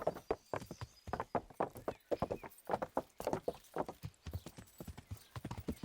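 Horse hooves clip-clopping in the medieval game Kingdom Come Deliverance, a steady rapid rhythm of close, fairly loud hoofbeats running the whole time, with a brief whinny-like tone and no talking.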